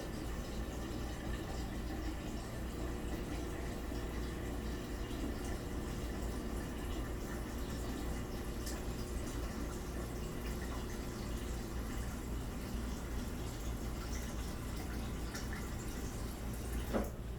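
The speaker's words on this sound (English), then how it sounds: "This time I'm going to get some cold water from the refrigerator." Cold water from a refrigerator pours steadily into a container, a continuous, even rush of liquid with no pauses and no voices, heard fairly close for about seventeen seconds.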